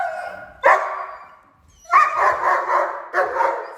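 German Shepherd dog barks on command during training, three loud, close barks spaced about a second apart, each trailing off with a ringing echo, no talking.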